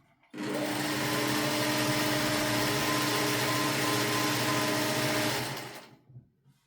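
A Singer 401 sewing machine runs a test seam with its thread tension set wrong, a loud steady motorized whir and rapid needle clatter lasting about five seconds before winding down.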